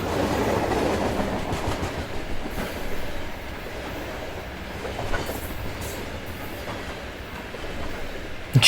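A freight train clatters along at moderate distance, a rolling rumble with faint wheel clicks and a light squeal, fairly quiet and steady.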